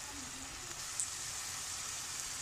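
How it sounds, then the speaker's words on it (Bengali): Onions and spices frying in a pan for baim fish curry, a steady close sizzle and crackle running throughout at moderate level, with a faint clink partway through. "আমার পেঁয়াজটা গলে গেছে, তখন আমি আস্তে আস্তে মশলা দিলাম।"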